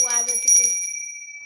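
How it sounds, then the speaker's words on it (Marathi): A small metal bullock neck bell being handled gives a bright, ringing tone that sustains and slowly fades, with a few clinks at the start. "हे बैलांच्या आहेत ना गळ्यात ना घंटी घालायचे हे"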